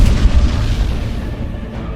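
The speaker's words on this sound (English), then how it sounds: "the French army became experts in the use of artillery" A heavy, deep artillery boom in the video game Age of Empires IV, a single loud rumbling blast that slowly decays and fades out.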